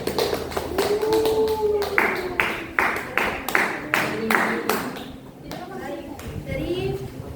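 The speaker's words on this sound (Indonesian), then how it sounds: "mari tepuk tangan dulu untuk terannya." A classroom claps for a classmate in steady, fairly loud rhythmic applause of many hands that stays even for several seconds and then trails off, with a few children's voices mixed in.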